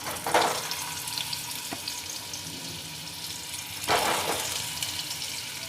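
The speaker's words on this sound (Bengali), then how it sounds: "এখন আমি আলুটা ছেড়ে দিচ্ছি।" Potato pieces dropped into hot oil in a wok-style kadai sizzle and crackle, with two louder bursts as more go in and a steady frying hiss between them, no talking.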